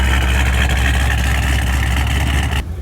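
A cammed 2006 Ford Mustang GT engine idles loudly and close with exhaust valves open, a deep, throaty rumble with a steady low burble that drops off abruptly at the end.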